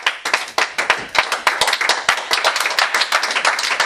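Church congregation clapping for God, a close, loud patter of many hands with uneven rhythmic surges, nearly continuous for a few seconds with little voice on top.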